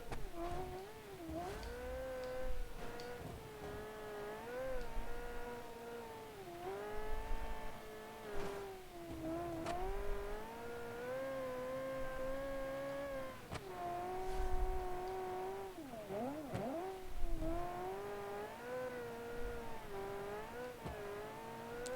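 A naturally aspirated V8 rally car engine, the PR84 2.9 comp spec in a 1984-season rally game, drones steadily throughout, rising and falling in pitch as it revs and shifts under hard acceleration and braking, with no talk.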